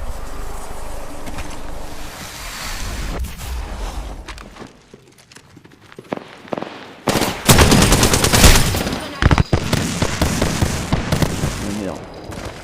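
Gunfire rattles in the Apex Legends video game, with rapid automatic shots clustering loud in the second half after a quieter stretch of game ambience.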